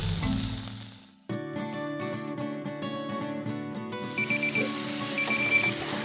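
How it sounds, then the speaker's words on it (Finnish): A meat thermometer beeps in short repeated bursts while pork is smoked, with sizzling and clattering underneath and the beeps rising clearly toward the end. "mittari piippaa. 64 astetta."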